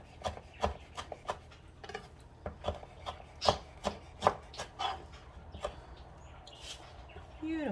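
A knife coarsely chops fresh cilantro on a crowded cutting board, about a dozen crisp, irregular thuds at close range over quiet room noise.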